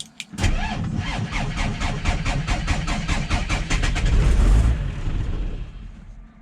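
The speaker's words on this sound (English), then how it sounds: "Give you guys a little startup of the Cummins." A Cummins diesel swapped into a Ford truck, sitting unused for a couple of weeks, cranks with rapid rhythmic starter pulses for several seconds and then fires into a loud, rough, close diesel rumble before settling.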